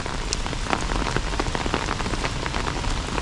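Heavy rain falling on a river, heard as a dense, steady hiss of drops spattering the water's surface, constant and close, with no voices.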